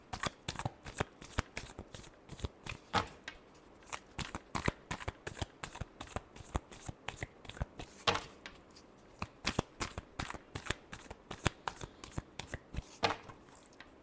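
Tarot cards being shuffled by hand produce rapid, close, crisp riffling and slapping bursts that repeat in quick irregular clusters for about fourteen seconds, with no voices.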